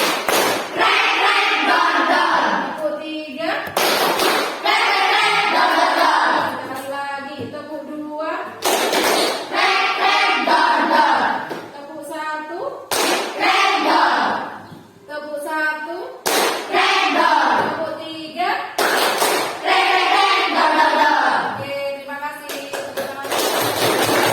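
Schoolchildren in a classroom clap out a short rhythmic pattern, a series of sharp, close hand-clap bursts separated by stretches of talking voices.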